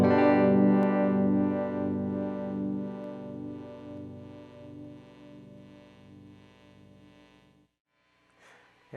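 Electric guitar chord ringing through a harmonic tremolo effect with the harmonic mix knob at 50%, the sustained tone pulsing in a steady wobble as it slowly decays, then a brief quiet rustle near the end.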